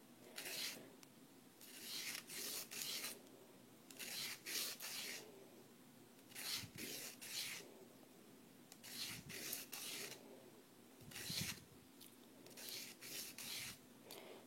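A resin ball being polished by hand with a steady circular rubbing motion, producing soft rhythmic scuffing strokes in repeated bursts, fairly faint and close, with no talking.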